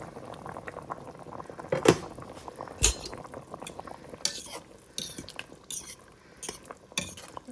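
Potatoes cooking in a pot of tomato and potato soup, bubbling liquid under occasional clinks and knocks of a utensil against the pot, close and fairly quiet, with no talking.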